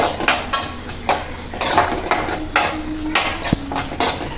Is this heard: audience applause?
no